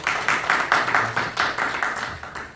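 A church congregation at a Pakistani Urdu-Punjabi service in the Bay Area claps in an even rhythmic beat, about four claps per second, moderately close and without talk.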